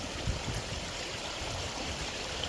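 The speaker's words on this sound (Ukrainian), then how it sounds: "яка в нас тут течія йде. Течія шикарна." Water rushes and gurgles steadily in a continuous broadband wash, close and fairly loud, with no voices.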